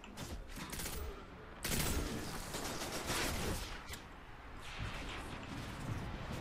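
Enemies firing at close range in the video game Destiny 2, rapid bursts of gunfire and heavy blasts that come thick and loud, then ease into scattered shots.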